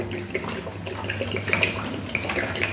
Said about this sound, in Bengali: এখানে এই 1 লিটার মতো আমি জল দিয়ে দিচ্ছি